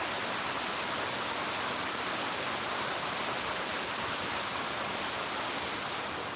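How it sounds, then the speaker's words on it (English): A loud, continuous roar of falling water, dense and unbroken, like a waterfall heard close by at lock 17 on the Erie Canal, with no voices. "waterfall is pretty spectacular from here."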